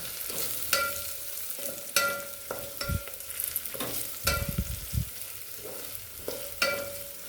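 Rice spices, turmeric and red chili, sautéing and being stirred in a hot pan for a Kutchi kharibhat, with a steady low sizzle broken by repeated scraping strokes of a spoon against the pan, close and clear with no talking.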